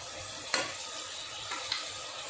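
Ghee, two or three spoonfuls, added to a hot pan gives a steady low sizzle, with a couple of faint ticks of a spoon against the pan and no voices.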